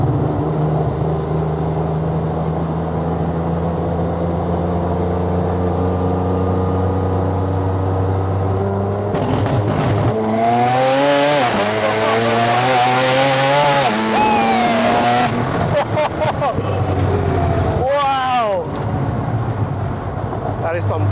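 Mazda RX-7 rotary engine running at 20 psi boost, idling steadily before sharp repeated revs rise and fall in the second half, loud and close, with voices around.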